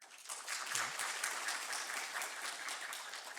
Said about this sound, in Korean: 박수로 위로의 박수 해주시길 바랍니다